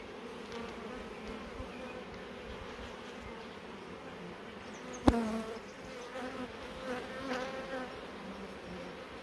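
A dense hum of bees and many drones inside an open beehive carries on steadily and close by, with one sharp knock or bump partway through.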